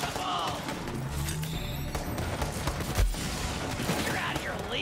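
Gunfire in the video game Borderlands 3 crackles in a steady, dense stream across the whole stretch, mixed with game effects and a busy background.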